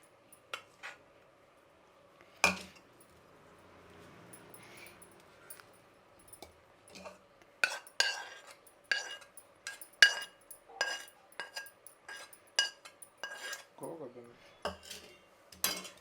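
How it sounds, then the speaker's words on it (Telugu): Tomato pulihora rice mixed in a pot, with scattered close clinks and scrapes of a spoon against the metal vessel, irregular and sparse, some quick bursts together. "ఇందులో వేసి కలుపుకుందాము"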